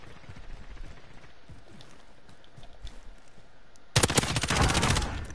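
Gunfire in a Warzone match: faint scattered distant shots and clicks at first, then a sudden loud, rapid automatic burst close by for the last second and a half.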